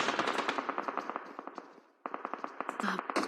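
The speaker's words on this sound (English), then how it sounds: "But here they are, under gunfire right now." Rapid automatic gunfire bursts in PUBG Mobile, a fast rhythmic string of sharp shots, a short pause, then another volley, loud and close.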